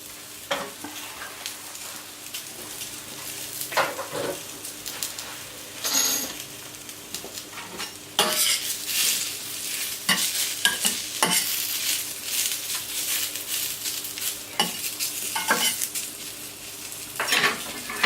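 Cooked potatoes brown on a hot plancha griddle with a thread of oil, as a persistent sizzle is punctuated by repeated utensil scrapes and clicks; the sizzle grows louder partway through, with no voices.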